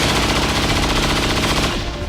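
A rapid automatic burst of gunfire rattles out in XCOM 2, loud and continuous for about two seconds before cutting off, with no voices over it.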